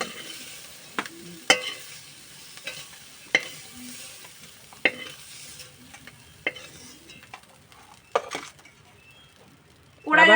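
Crabs stir-fried lightly in a pan: quiet sizzling under repeated sharp scrapes and clacks of a utensil against the pan at irregular intervals, close and moderately loud.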